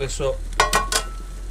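Food cooking in a Ghillie Kettle pan outdoors, with a few close, brief metallic scrapes and stirring clinks over a soft low background, lasting only a moment.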